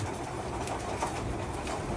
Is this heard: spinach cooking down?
no